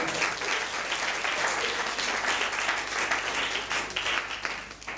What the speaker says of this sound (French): On peut acclamer pour la vie de Maman Sephora.